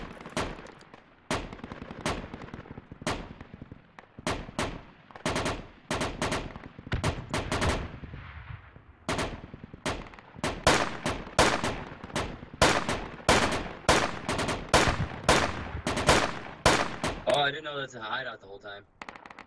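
Dense bursts of gunfire in the Project Reality military shooter, with rapid automatic shots and single cracks cutting through a busy firefight, loud and close, a short electronic tone at the end.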